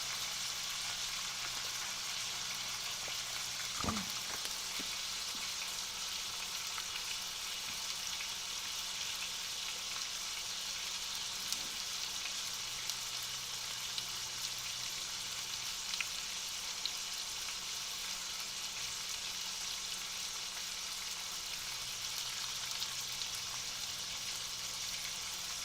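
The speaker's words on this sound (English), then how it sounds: "That sizzle sound nice." Pork chops sizzle steadily in a pan, a constant crackling hiss at moderate level, with a single brief thump partway through and no talking.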